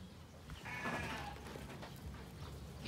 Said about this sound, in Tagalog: Ito naman po ang ating mga tupa.